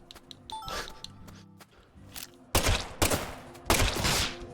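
Gunfire in the video game Deadly Premonition 2: after a quieter stretch of game sounds, three loud, punchy shots or short bursts land about a second apart, each with a ringing tail.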